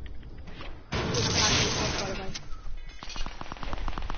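Video game gunfire, a sustained rattle of rapid automatic shots with bursts of repeated pops, heard in the background under a mix of game sounds.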